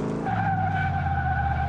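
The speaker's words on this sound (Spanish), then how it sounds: "A ver, prueba de freno." Tires skid hard as a car brakes during a brake test in Car Mechanic Simulator 2018, a loud sustained screech with a steady tonal squeal lasting the whole moment, no talking.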